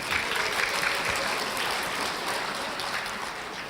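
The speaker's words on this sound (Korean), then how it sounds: "축하의 박수를 부탁드립니다." Steady applause from an audience at an alumni association general meeting and inauguration ceremony in a hotel ballroom in Busan, congratulating newly elected officers; dense, even clapping that fills the whole stretch without talk.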